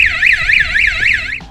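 A wireless home security system siren wails loudly and close, a rapid warbling electronic tone rising and falling in steady cycles before cutting off.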